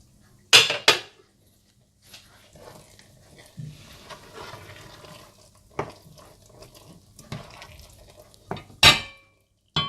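Dal is ladled into a serving dish in a home kitchen, with several sharp clinks and scrapes of metal utensils against pots spaced out over a quiet background, close and fairly loud.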